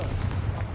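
A Confringo fire spell from Hogwarts Legacy bursts in a short, dull boom with a rumbling low body, a single brief blast with no voice over it.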